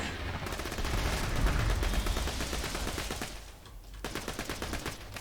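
Enemy gunfire in the shooter game Borderlands 2, a steady stream of rapid automatic shots crackling over a busy rumbling background, briefly thinning before resuming.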